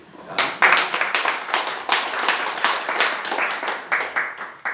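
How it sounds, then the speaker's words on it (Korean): A church congregation applauds during an anniversary worship service, with dense, steady clapping from many hands that stays loud and continuous throughout before tapering slightly at the end. "우리 서로 위로와 또 서로 격려하는 마음으로 박수 드리겠습니다."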